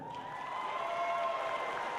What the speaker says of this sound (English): please give a round of applause for the following members of the 2020 Indiana FIRST Student Board of Directors